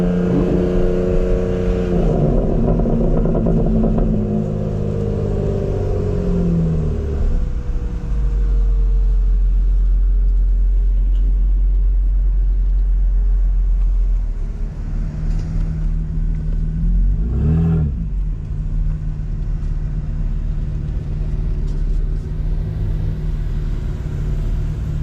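2025 BMW M4 LCI driven hard on a race track, the engine loud and close, revving up through gears, dropping to a deep steady drone, then climbing and surging again, with no talk.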